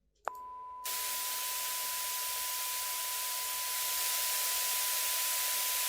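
White noise from an audio demonstration of sidechain compression, playing steady and loud at full level, with no ducking, after a brief click and a short tone at the start.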